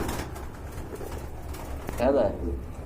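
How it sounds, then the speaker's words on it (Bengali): A pair of big-size Indian Kaldam pigeons coo softly and repeatedly close by. The calls sit under a low background murmur and nearby talking voices. "খুবই সুন্দর এক জোড়া বিগ সাইজের ইন্ডিয়ান কালদম"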